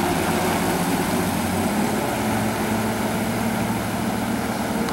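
Steady low rumble of fly-by-wire outboard engines on a 2013 Sea Fox 256 Commander center console boat, with a broad hissing wash, running evenly throughout with no voices, like motors idling close by.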